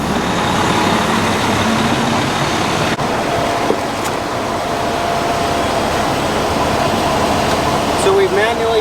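A fire engine idles in pump gear with a steady, loud mechanical drone and hum, a few brief clicks and clanks over the running engine noise.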